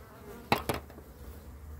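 Honeybees at a hive frame during an inspection of a colony with chalkbrood, a soft steady buzz close by, broken by two brief sharp knocks in quick succession.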